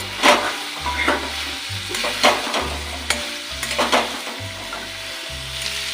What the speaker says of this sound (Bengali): এবার আমি এই ভাজা আলুগুলো দিয়ে বাকিটা পুরো কষিয়ে নেব